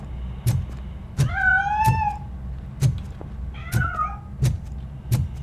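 A cat in RoboCop: Rogue City gives two drawn-out meows, clear and close, over a steady run of soft regular thumps with low background hum.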